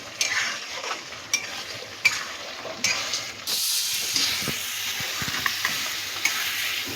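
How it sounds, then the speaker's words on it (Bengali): Tangra fish masala sautés in a pan, with a soft sizzle broken by several sharp scraping stirs, ending in a louder, continuous hiss. "ভালো করে কষিয়ে নেব।"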